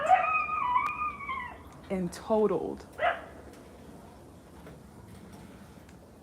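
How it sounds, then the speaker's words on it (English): Dogs howl and bark in the background, a drawn-out howl followed by a few sharp barks, while someone talks indoors over them. "I hope y'all can't hear those dogs."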